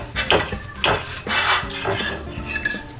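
A knife scraping and clinking against a plate while slicing open a reverse-seared steak cooked in a NuWave Bravo air fryer oven, a few short metallic scrapes and taps up close with no voices.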